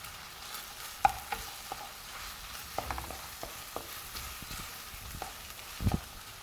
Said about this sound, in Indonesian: Jadi wortel duluan yang ditumis.